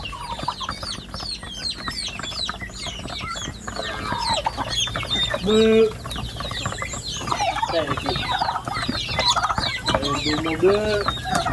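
A flock of turkeys clucks and chatters continuously, many overlapping calls close by, with a louder burst partway through.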